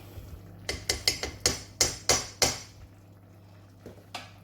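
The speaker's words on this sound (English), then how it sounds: "Just give that a little mix." A spoon mixes a plant-based sausage and sweet potato casserole in a dish, producing a run of about eight sharp, close clanks against the dish, then quiet with a couple of lighter taps, and no speech.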